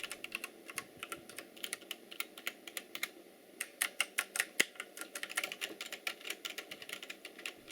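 Typing on a Redragon K585 DITI gaming keyboard, rapid, crisp, clicky keystrokes in an uneven stream, fairly close and alone, with no voices.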